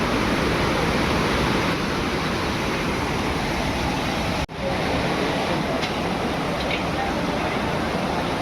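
Beside Dhutpapeshwar temple near Rajapur, a waterfall roars in a loud, dense, unbroken rush that fills the whole clip, with only a brief dip midway.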